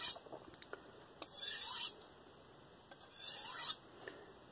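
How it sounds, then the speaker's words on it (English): A kitchen knife drawn along an Idahone ceramic honing rod gives two clear rasping strokes, each lasting under a second, against a quiet background with a few faint taps in between. "These ceramics are very, very hard, and, you know, they cut very slow, but they work really well for the final apexing."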